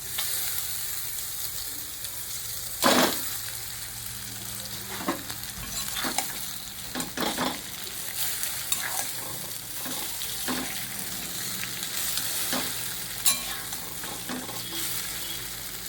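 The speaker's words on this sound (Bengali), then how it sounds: "এখানে হচ্ছে চাউমিন সিদ্ধ করে রেখেছি। তো এইগুলো এখন কড়াইতে দিয়ে দেবো।" Boiled chow mein being stir-fried with egg in a wok crackles and sizzles steadily up close, with repeated sharp clacks of a utensil against the pan and no talking.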